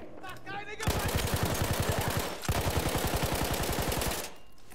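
A mounted machine gun in the Battlefield 1 single-player campaign fires two long, rapid sustained bursts separated by a brief pause, loud and close, with dense rattling shots throughout.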